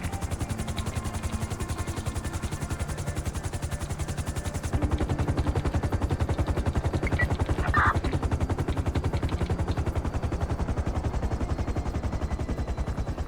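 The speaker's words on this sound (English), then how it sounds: "Make sure our rotors are all spun down and everything before we get out." Helicopter rotors in GTA V spooling down after touchdown on a helipad, giving a steady, evenly pulsing chop that continues throughout with a slight lift in loudness midway.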